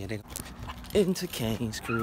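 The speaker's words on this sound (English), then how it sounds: "That was a dog." A dog gives a few short yelps or barks near the camera during a walk into a home, overlapped by someone talking.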